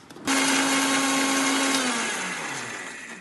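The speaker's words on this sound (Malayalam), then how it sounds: "നമ്മളെ കടല മിക്സിയിലിട്ട് അടിച്ചു." An electric mixer grinder starts abruptly and runs at a loud, steady whine while grinding roasted red chickpeas with chilli and salt, then slows slightly as it winds down.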